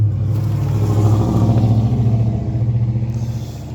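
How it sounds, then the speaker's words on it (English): A GTO car rumbles loudly nearby as it pulls away, its engine note steady and throaty with a slight rhythmic pulsing throughout. "Now they're getting the GTO and leaving"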